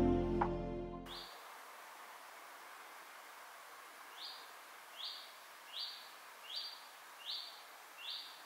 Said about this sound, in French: À entendre les oiseaux comme ça, j'ai l'impression d'être au début du printemps.